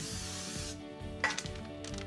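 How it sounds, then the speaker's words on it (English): Cooking spray gives a short, close hiss for under a second onto a sheet tray, followed by light tapping and rustling sounds as parchment is laid on it. "take a little bit of cooking spray"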